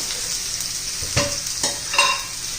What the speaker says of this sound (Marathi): आता यात आपण दोडका घालून घेऊ त्याला पण आपण थोडस तेल घालूया